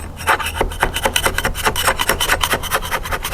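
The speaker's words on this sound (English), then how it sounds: "Just scrape as much as you can off all that looseness." Loose, peeling paint being scraped off a surface, a rapid series of rough rasping strokes in a steady back-and-forth rhythm, close and loud with no talk.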